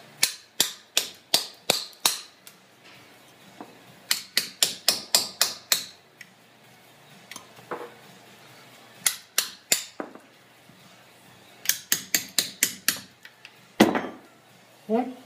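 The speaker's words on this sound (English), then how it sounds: "I want to take the chisel and" A hammer drives a chisel into soapstone to cut out a hole, producing sharp, close metallic taps in rapid bursts of several strikes each, separated by short pauses.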